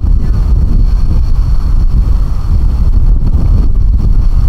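Brisk wind buffets an outdoor microphone in a steady, loud, low rumble that continues without a break, with no voices.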